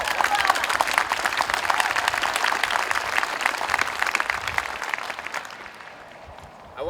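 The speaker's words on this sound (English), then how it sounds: "Yeah, you can clap that." Applause from the audience at a Veterans Day ceremony, a dense burst of many hands clapping that holds steady, then thins and fades out near the end.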